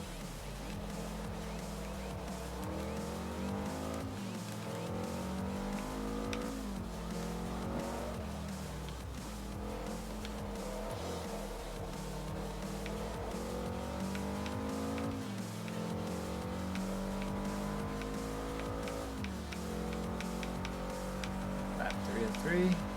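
A race car in the video game Forza Motorsport 3 drones steadily through laps, its engine pitch rising and falling with gear changes and occasional tire squeal, while a commentator talks over it throughout.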